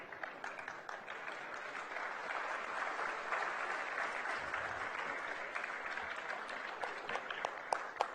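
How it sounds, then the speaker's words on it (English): A large crowd at the SOA Literary Festival 2025 applauds as a literary award is presented to Javed Akhtar, with a dense, continuous roar of clapping from a big hall and a few sharper claps near the end. "The applause should keep coming."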